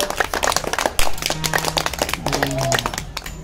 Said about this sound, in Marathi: त्याच्या समोर बसल्या सर्वांनी परत टाळी वाजवा